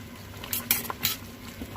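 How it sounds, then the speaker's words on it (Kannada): A utensil stirs roasting eggplant and tomato in a pan, with a few short scraping clinks of metal against the pan over a low, steady cooking hiss, close by and moderately quiet. "ಇದನ್ನು ಒಂದು ಸ್ವಲ್ಪ ಮಗ್ಚಾಕ್ತಾ ಇದ್ದೀನಿ"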